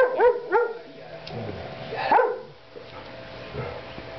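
A dog barks and yips in a short burst of about three quick barks near the start, then a louder yelp around two seconds in, close by, with faint room noise between.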